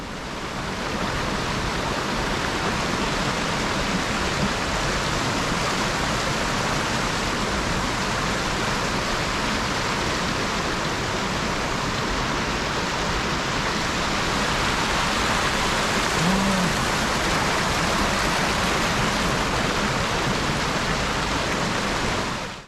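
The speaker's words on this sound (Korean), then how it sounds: "폭포 주변을 한번 카메라에 담아 볼게요" Dry Creek Falls in winter, with ice around the pool below, roaring as a steady, loud, unbroken wash of falling water that never lets up.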